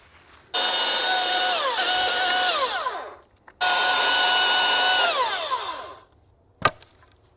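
Battery-powered yard equipment running in two long bursts of steady, loud whine, each lasting about three seconds and winding down with falling pitch, with a brief clack near the end.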